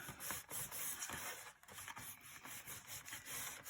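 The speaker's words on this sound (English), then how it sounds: "I'm going to start first by folding and burnishing that 1/4 inch fold." Paper being folded and burnished along a narrow quarter-inch crease for a mini album, with close, dry rubbing and scraping strokes repeating in an uneven rhythm, no voices.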